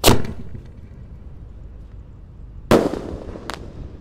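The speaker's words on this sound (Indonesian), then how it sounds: "Siap meluncur ini. Bima Sakti Roman Candle ukuran 4 inci." A 4-inch Bima Sakti Roman candle fires two sharp, loud launch bangs about two and a half seconds apart. Each blast is followed by a short fizzing tail and a faint crackle.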